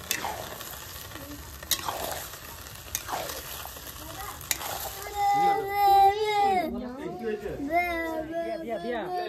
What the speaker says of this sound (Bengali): চিলি চিকেন এবার যাচ্ছে চিকেন গুলো ঢেলে দিয়ে দেবো।